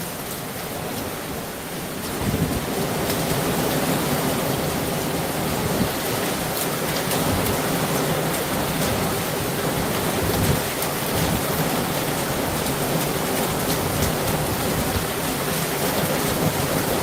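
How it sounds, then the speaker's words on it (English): Heavy rain mixed with hail pours down outdoors in a steady, loud, hissing roar, with a dense patter of impacts and no break from start to finish. "It's mixed in with the rain. It's hailing."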